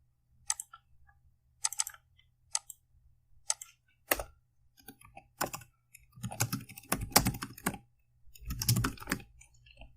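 Computer keyboard typing while code is entered for a CRUD form program, in irregular bursts of close, crisp key clicks with short pauses and denser clattering runs toward the end, no talking.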